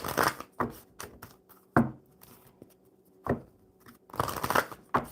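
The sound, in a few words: playing cards being shuffled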